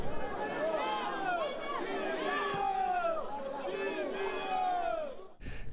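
Heated football supporters in the stands at a Campeonato Paulista A2 2012 match between Santacruzense and São Bernardo, a dense, loud crowd roar of overlapping shouts and rising calls that carries on steadily before cutting off near the end.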